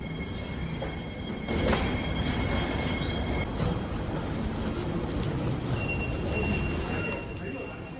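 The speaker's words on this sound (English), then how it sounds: "We just missed the train." An airport train leaving a platform on the way to a satellite terminal, a loud rolling rumble with high metallic wheel squeals throughout, fading slightly at the end.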